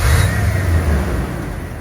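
A car engine running close by with a steady low rumble, loud and continuous, easing slightly toward the end.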